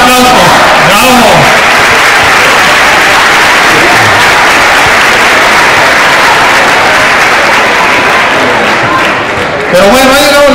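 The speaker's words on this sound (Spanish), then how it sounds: "todos juntos, una, dos, tres. Eso, un aplauso, bravo" A crowd at a Red Cross 2017 fundraising event in Sinaloa bursts into loud, sustained applause after a group count, clapping dense and close throughout, with cheering voices rising at the start and end.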